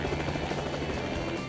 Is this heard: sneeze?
no